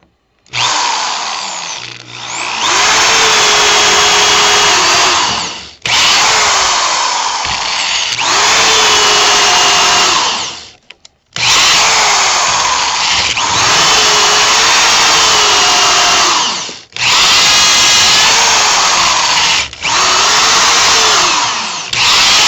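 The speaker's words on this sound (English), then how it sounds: "I'll drill these down to about that depth," A power drill bores holes into new legs for an old cedar chest, running in several long sustained bursts with brief pauses between, loud and close, with the motor pitch shifting as the bit bites into the wood.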